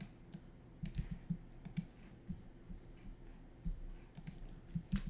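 Fast typing on a computer keyboard, with irregular bursts of close, crisp key clicks and occasional louder taps, steady and unaccompanied by talk.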